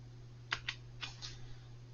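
A few sharp, quiet keystrokes on a computer keyboard, tapped in a short irregular run over a steady low electrical hum.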